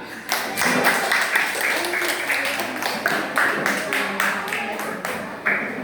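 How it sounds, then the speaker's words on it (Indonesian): Classroom applause from pupils, steady rhythmic clapping in loose unison that keeps going for several seconds, close and fairly loud, with brief voices mixed in. "semua tepuk tangan"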